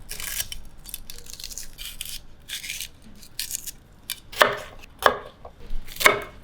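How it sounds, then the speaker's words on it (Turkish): A knife chops peppers on a board, starting with quick scattered cuts and ending in three or four sharper, louder chops, close up. "Ben de bu arada biberlerimi doğrayacağım."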